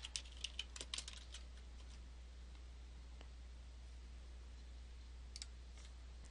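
Faint, sparse computer keyboard key taps entering a search subject in a software index tab, a few quick clicks at the start and a couple more near the end over a steady low hum.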